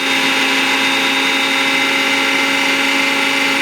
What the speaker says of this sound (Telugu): ఇవన్నీ ఒక మిక్సీలో వేసి పేస్ట్ కింద ఆడుకోవాలి